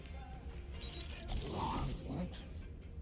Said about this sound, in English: Think you could open the door for a minute?